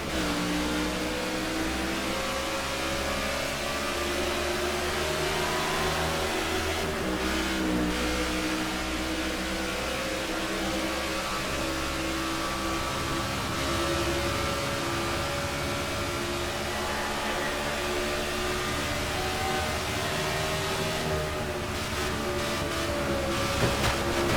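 Race car engines roar at the start of a NASCAR '15 race at Texas Motor Speedway, a dense, continuous drone of many engines revving together with steady loudness throughout.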